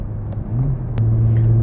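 A BMW M2C's engine rumbles low and steady while driving, swelling briefly as it revs, heard close from inside the car.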